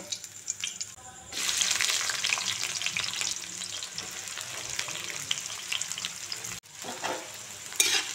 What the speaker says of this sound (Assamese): এতিয়া এইখিনিতে মই পিঁয়াজখিনিও ঢালি দিম একেলগে